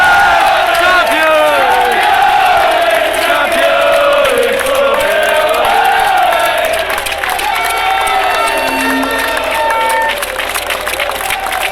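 Luton Town FC supporters at the club's 2014 parade, a dense, loud and continuous crowd roar of cheering, shouting and whoops with scattered clapping, sustained from start to end.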